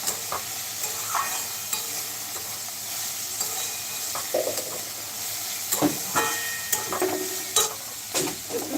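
Food is stirred and sizzles in a cooking pan, with close, irregular scraping and clatter of the utensil over a soft steady frying hiss, and no talk.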